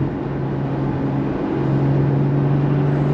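2016 Porsche Boxster Spyder accelerating hard from third into fourth gear: a steady, loud engine hum and drone with a firm tone that holds and climbs slightly, heard from inside the car with no talk.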